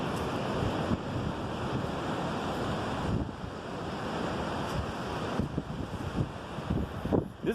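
Ocean surf rolling in at Mission Beach, California, a steady broadband wash of breaking waves with wind buffeting the microphone throughout, fairly close and continuous with no talk.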